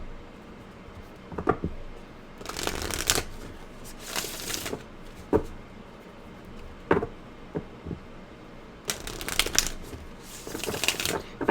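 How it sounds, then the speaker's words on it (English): Tarot cards are shuffled in several brisk riffling bursts, close and fairly soft, with small taps and rustles between them and no talking. "I'm gonna shuffle here."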